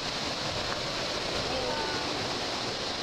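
Diamond Waterfall in St. Lucia, within a botanical garden, roars as a steady, dense wash of falling water that holds constant and loud throughout, with no talk over it.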